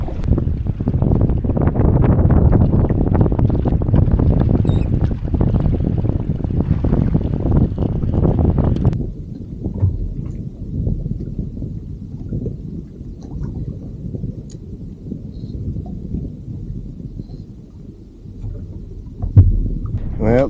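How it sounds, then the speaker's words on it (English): Wind blows hard across the microphone on a fishing boat, a loud buffeting roar for the first half that eases into a steadier, quieter rush of air and water. "the wind has picked up already"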